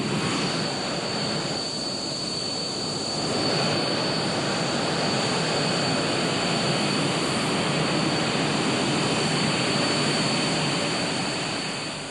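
Military jet engine running steadily on the ground at an air base, a loud continuous roar with a high whine and no breaks, alone without talk.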